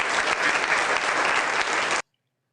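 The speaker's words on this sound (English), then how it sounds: "Y'all heard all that clapping, right? The fake clapping." A canned applause sound effect on a livestream, a dense burst of crowd clapping for about two seconds that then cuts off abruptly into silence.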